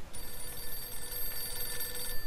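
Telephone ringing in the 1940s–50s crime game Mafia II, a steady electric bell ring heard close and moderately loud, with no talking.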